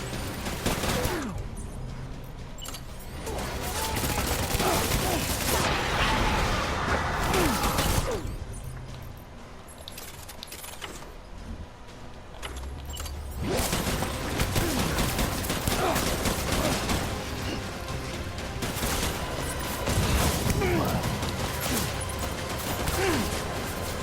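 Gunfire in the Death Stranding video game: dense bursts of rapid shots and clattering mechanical noise come in long loud stretches, separated by a calmer gap, with some voices mixed in.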